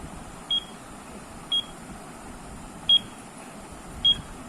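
A digital seven-colour rechargeable alarm clock gives four short, crisp electronic beeps, spaced about a second apart as its buttons are pressed during alarm setting, heard alone against a faint hiss.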